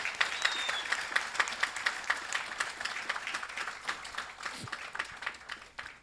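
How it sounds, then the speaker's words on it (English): Audience applause at a religious yagna gathering, steady clapping from a crowd that holds for several seconds and then fades. "Please give my parents a round of applause."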